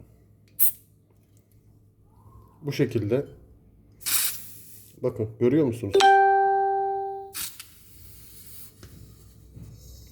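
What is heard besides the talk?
lighter gas hissing into camping cylinder during refill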